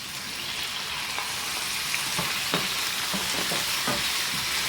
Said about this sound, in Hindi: इसको अच्छा सा हमने भूनना है चिकन को